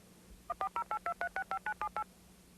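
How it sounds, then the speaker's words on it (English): Voice-activated telephone automatically dialing a call: a rapid run of eleven evenly spaced touch-tone beeps, clear and close, with no talking over them. "the phone automatically makes the call for me"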